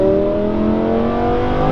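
A Lamborghini Huracan lowered on H&R springs drones loud and close under load, its engine and exhaust holding a steady harmonic tone through quick gear changes.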